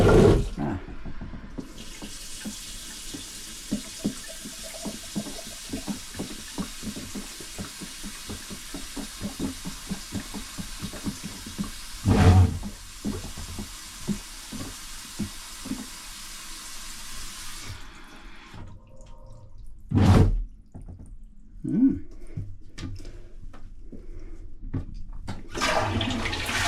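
A Saniflo toilet macerator runs with loud rushing water filling for about sixteen seconds, then stops, leaving a few sharp knocks and clunks in a quiet room.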